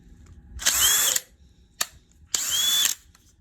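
A DeWalt DCD999 cordless hammer drill runs in two loud bursts of about half a second each with a brief click between them. Each burst rises quickly to a steady high whine.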